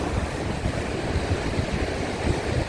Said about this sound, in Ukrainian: я вам кажу, що вітер посилюється